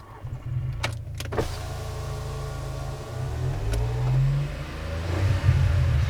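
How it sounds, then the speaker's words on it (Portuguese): The power window of a Volkswagen Virtus, a turbo manual car with a sports exhaust and sports air filter, whirs as it opens inside the cabin. Clicks come first, then a low motor hum and engine rumble swell toward the end. "vou até abrir a janela aqui"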